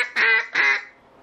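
A hand-held duck call imitates a hen mallard feeder chuckle: two loud, close, nasal quacks in quick succession, then a short fading tail.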